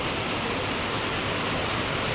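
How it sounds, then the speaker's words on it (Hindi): Heavy monsoon rain pouring down outside a shop, a dense, even hiss of constant downpour with no breaks, heard alone and fairly soft for a couple of seconds. "देखो वर्षा हो जोर पूरा वर्षा हो"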